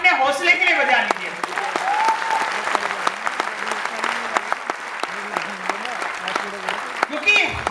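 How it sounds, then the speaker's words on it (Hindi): Audience applause at a motivational talk, a steady burst of clapping running for several seconds with a voice speaking over it throughout. "एक बार जोरदार ताली अपने हौसले के लिए बजा लीजिए"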